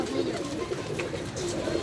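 Pigeons coo softly in a low, rounded murmur throughout, at moderate distance, mixed with faint background voices.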